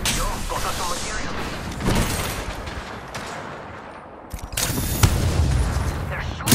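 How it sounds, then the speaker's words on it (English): Rapid gunfire in the video game Apex Legends, with dense, loud bursts of shots and booming impacts that keep going for several seconds with no talking. "They're shooting at me? Opening fire."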